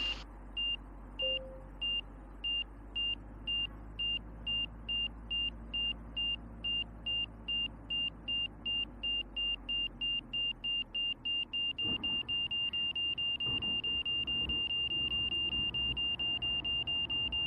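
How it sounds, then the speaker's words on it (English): An angle of attack warning in a light aircraft that has already landed sounds a rapid, regular train of loud electronic beeps that runs into a continuous tone over a cabin hum with thumps and rumble. "And you can hear it saying, but you're way too slow."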